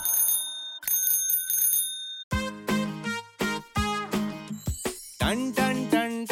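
A bicycle bell rings in a children's rhyme, a burst of bright metallic dings at the start that then gives way to sung music with a steady rhythmic beat.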